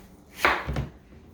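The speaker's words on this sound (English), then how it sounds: "you're actually going to take slices of the core off, or the peel off" A kitchen knife cuts peel off a watermelon in two quick strokes, a crisp slicing crunch followed by a duller thud of the blade meeting the board, close and isolated.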